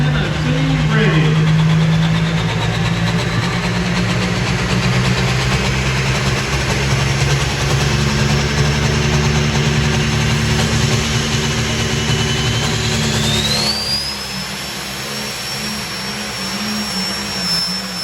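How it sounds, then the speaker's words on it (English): An International tractor named Tennessee Ready roars at a county fair tractor pull, a loud sustained engine drone with a high whine that climbs and then steadies while an announcer talks over it. "Annabelle Pruitt out of the Ward, Tennessee, driving the international tractor called Tennessee Ready."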